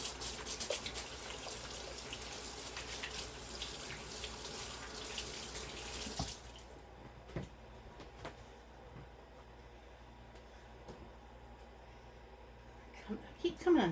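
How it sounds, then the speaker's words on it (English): Water runs steadily from a tap for about six seconds during handwashing, then stops, leaving quiet room sounds and a few faint clicks. "I'm going to wash my hands."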